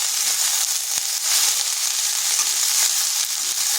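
Cabbage frying over high heat for a Bengali cabbage-and-bori dish, a steady loud sizzle running throughout with a few faint knocks of a utensil, no talking.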